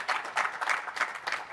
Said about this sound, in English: Can everyone give a round of applause for Karim here?